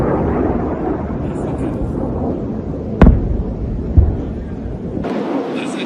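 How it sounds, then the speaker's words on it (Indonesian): Two dull, distant booms a second apart from intercepted missiles, rising out of a steady roar of wind-like rumble, then the noise drops away abruptly. "Ledakan dan dentuman terdengar dari kejauhan saat rudal berhasil dicegat."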